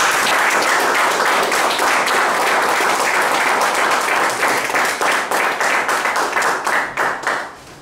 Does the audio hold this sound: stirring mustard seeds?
no